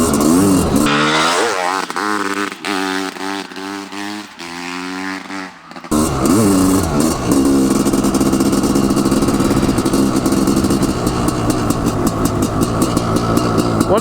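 A Honda CR500AF two-stroke motorcycle revs loudly nearby by a lake, engine pitch rising and falling through gear changes before settling into a hard, sustained high-rev pull.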